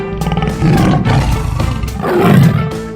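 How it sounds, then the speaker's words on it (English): A tiger in a 3D animal video game lets out a loud, rumbling roar that swells twice over a few seconds, heard alone with no voices. "Tiger."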